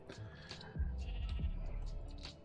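A sheep in the Minecraft video game bleats several times in short calls, set against a loud low rumble. Nothing else breaks through.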